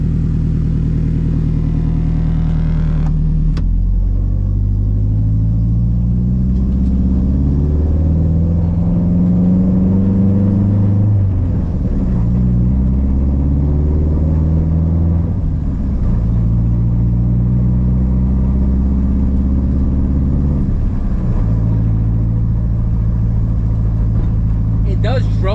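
A turbocharged AWD Honda CRX with an H2B engine swap and mid-pipe exhaust drones low and loud, rising through gears in repeated surges with deep exhaust rumble, heard from inside while driving.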